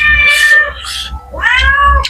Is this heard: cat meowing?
yes